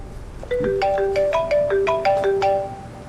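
A phone ringtone plays a bright melodic chime pattern, loud and close, repeating its short tune with no talking over it.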